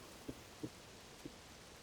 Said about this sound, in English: We gotta wait for the rain.